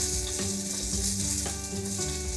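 Onion and butternut squash fry in a hot pan with a steady, close sizzle and occasional stirring knocks.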